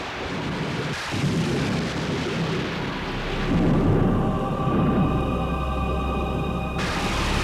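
Stormy night ambience with a continuous, heavy rumble and hiss of wind and rain, a low thunder-like roll swelling in the middle, steady and fairly loud throughout with no voices.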